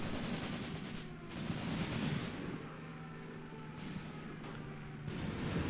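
Gunfire in Graviteam Tactics: Mius Front, a dense fusillade of rifle and machine-gun shots crackling steadily with distant booms, heard at moderate distance with no talk.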